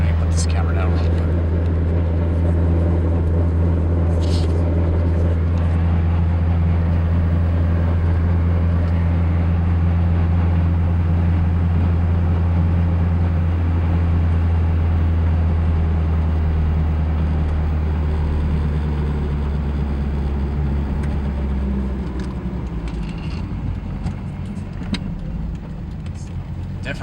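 Car with a swapped 2.4L FF 6466 2150cc injected engine cruising in second gear, a loud steady low engine drone with constant hum that eases slightly near the end, heard from inside the car.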